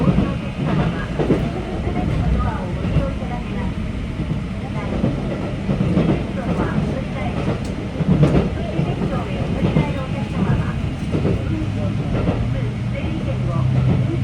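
A JR Kansai Line train runs steadily along the single-track line into Yokkaichi Station, with continuous low rumble, rail clatter and wheel noise at moderate, even loudness throughout.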